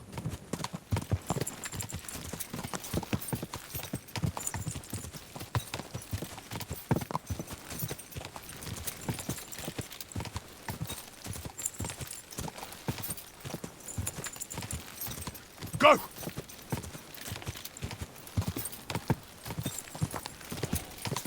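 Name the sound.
horse hooves galloping, from video game Kingdom Come Deliverance 2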